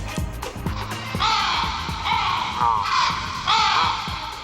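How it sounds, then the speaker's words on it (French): Crows cawing in repeated harsh calls, several overlapping bursts, fairly loud over a low rumbling background with faint voices. "C'est avec le corbeau."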